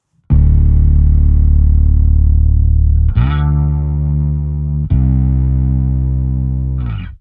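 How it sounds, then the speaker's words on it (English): An electric guitar runs through fuzz with a chorus pedal engaged, ringing out three loud, sustained distorted chords in succession with a swirling, pulsing shimmer and no voices over it. "you can hear the pulse effect of the chorus"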